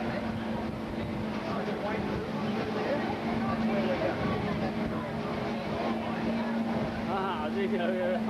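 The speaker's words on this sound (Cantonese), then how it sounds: "師兄喺度揸船啊" A motorboat is driven across the water at Hervey Bay, its engine a steady, droning hum running throughout while people talk over it.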